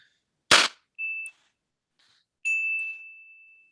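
A correct-answer ding buzzer button from a game show rings out: a sharp click or bang, then a short clear ding, and after a pause a longer sustained ding that fades slowly, all fairly loud against silence.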